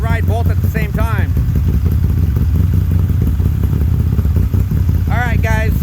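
A 2021 Moto Guzzi V9 and V7 motorcycle idle with a loud, steady low exhaust rumble close by, while someone speaks briefly at the start and end.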